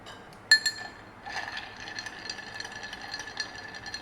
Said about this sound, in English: So we stir that gently over ice